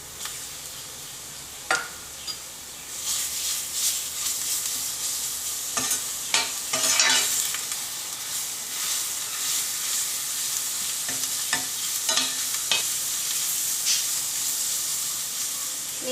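Chopped onions sauté with ginger-garlic paste in a pan for rajma masala, a steady bright frying hiss broken by scattered scraping stirs and small knocks of a spoon, close and even throughout without speech.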